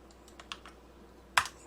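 A few computer keyboard key presses during Blender hard-surface modeling work, soft scattered taps followed by one sharper, louder click cluster near the end, close and quiet, with no talking.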